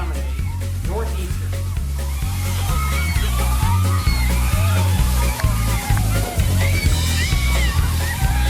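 A large load of water dumped from a front loader crashes and sloshes in a loud, continuous rush, with people talking and a pulsing low hum throughout.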